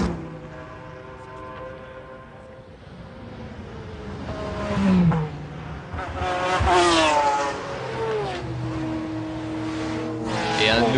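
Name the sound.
McLaren race car driving on track at Le Mans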